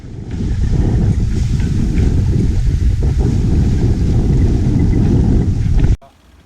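Steady, loud wind rushes over a sailboat sailing under its unfurled head sail in a good breeze, a continuous roar for about six seconds before cutting off abruptly.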